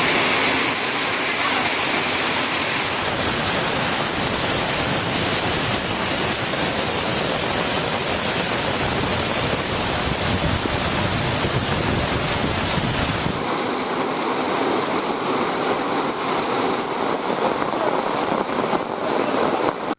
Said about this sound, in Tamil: தண்ணீர் ஆர்ப்பரித்து கொட்டியது.